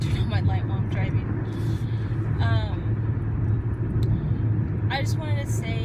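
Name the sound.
car interior while driving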